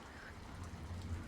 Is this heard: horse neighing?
no